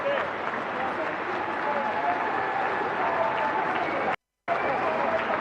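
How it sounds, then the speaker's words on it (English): A Labour Party conference hall fills with sustained clapping from a large audience, broad and even, cut off by a brief gap of silence before it resumes. "you can see all of the neolib ghouls there clapping like sea lions to Reeves's authoritarian smirking"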